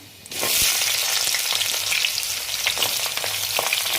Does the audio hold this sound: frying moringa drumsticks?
yes